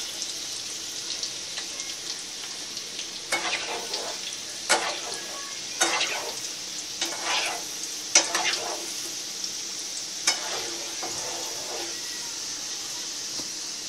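Sim ful pitha frying in oil, a soft steady sizzle punctuated by several sharper scraping and stirring bursts as the pieces are moved, close and without talk.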